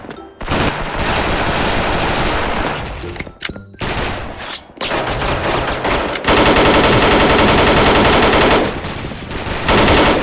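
Sustained automatic fire from an AUG A3 rifle in the shooter game Special Force, loud dense bursts running nearly the whole time with a few short gaps between strings of shots.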